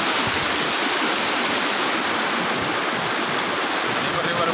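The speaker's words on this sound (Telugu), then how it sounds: "ఈ మన్నేరు నేరుగా పోయి కృష్ణా నదిలో కలుస్తుంది." The Munneru river near Khammam, running in full force, produces a steady, dense rushing roar of flowing water, loud and close throughout without any break.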